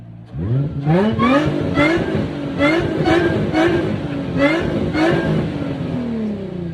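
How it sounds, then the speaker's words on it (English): A supercharged Nissan 350Z engine revs hard in repeated bursts, each rising whine of the supercharger climbing and dropping back, loud and close, with no talking. "Go up front and listen to the supercharger."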